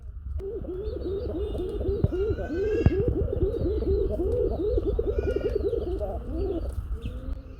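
Local desi pigeons coo in a continuous low, throaty rhythm close by, with a few faint chirps and clicks in the background.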